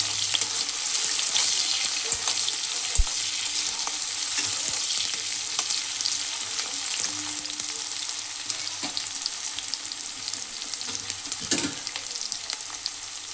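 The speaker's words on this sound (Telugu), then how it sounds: "ఇలా సాల్ట్ వేసిన తర్వాత ఆనియన్స్ని ఫ్రై చేసుకోవాలి ఫ్రెండ్స్" Salted onions fry in a pan for an egg fry, a steady bright sizzle running throughout with occasional soft stirring scrapes and a small clink, close and continuous with no voices.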